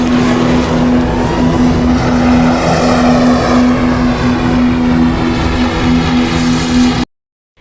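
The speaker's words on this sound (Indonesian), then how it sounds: "mesin pesawat" A loud airplane engine drones steadily from a hijacked airliner in a Korean action film, a strong sustained hum with a clear tone that holds throughout and then cuts off abruptly.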